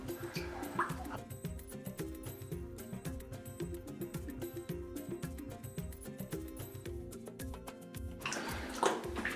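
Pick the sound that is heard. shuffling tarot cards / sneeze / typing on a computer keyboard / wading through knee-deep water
wading through knee-deep water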